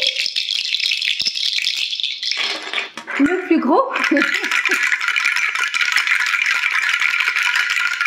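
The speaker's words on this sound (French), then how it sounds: "je vais vous montrer mes petits hochets de purification" Shamanic purification rattles are shaken continuously, a dense, loud shushing rattle that briefly changes texture as one rattle gives way to another, while someone speaks a few words over it.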